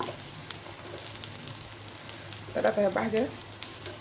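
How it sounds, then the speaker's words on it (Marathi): Vegetables fry in butter with ginger-garlic paste for a homemade veg burger, a low steady sizzle under brief nearby speech, with a louder stirring or scraping burst near the end. "भाज्या छान फ्राय झालेल्या आहेत"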